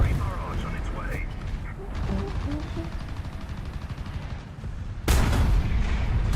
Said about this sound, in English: Artillery barrage on its way.